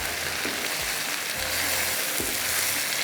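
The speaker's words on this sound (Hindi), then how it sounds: "ज़रा सी आपने इसकी भुनाई कर लेनी है" Beef khara masala with butter sizzling steadily in a pan as it is roasted, a loud, continuous fry hiss with occasional scraping stir sounds and no talk.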